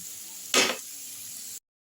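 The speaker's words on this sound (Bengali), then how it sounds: "দেখো, পেঁয়াজটা দিয়ে আমি একটু ভাজা ভাজা করে নিচ্ছি।" Onions frying in a pan for keema curry: a short burst of sizzling rises sharply near the start, then settles into a steady, faint hiss of hot oil before cutting off.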